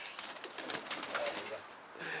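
A pigeon coos softly nearby just after being released, with light flutters and a brief burst of hissing noise in the middle, the whole thing fairly quiet.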